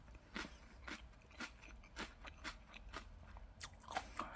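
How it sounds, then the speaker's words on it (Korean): Raw vegetables chewed with a crunch, close to the mic: a run of crisp, irregular bites and mastication crunches across the stretch, moderately quiet, no talking. "이 살아있는 씹히는 소리를 들어보세요."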